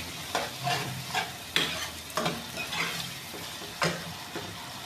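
Salted rice with potatoes, onions, tomatoes and peas being roasted and stirred in a pan gives a close sizzle with several distinct scraping strokes in an uneven rhythm, and no one speaks.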